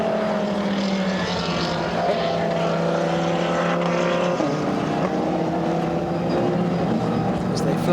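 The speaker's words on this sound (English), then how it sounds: "As they flash past the marshals and head into the pit lane." GT race cars roar past toward the pit lane at a circuit, a loud, sustained engine drone with shifting pitch sweeps as the cars flash by, mixed with steady track ambience for the whole stretch.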